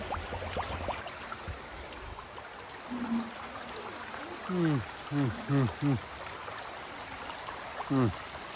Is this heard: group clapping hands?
no